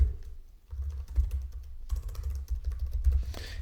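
Typing on a computer keyboard, faint and steady key clicks over a low background hum.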